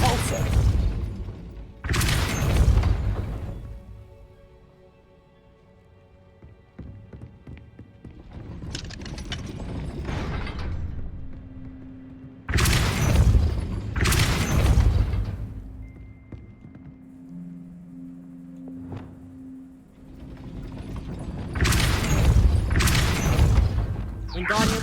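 Depulso force spell cast repeatedly in the video game Hogwarts Legacy: loud broadband blasts and thumps in separate bursts with pauses between, over a low game hum, with no talking.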